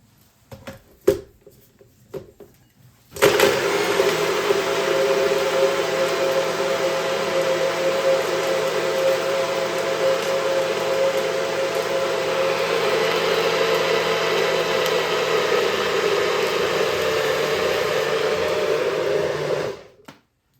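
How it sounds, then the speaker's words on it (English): A kitchen blender whirs at high speed through Haitian epis green seasoning with two Maggi cubes, starting after a few handling clicks and running as a steady, loud motor drone for about sixteen seconds before stopping. "Put my blender back on."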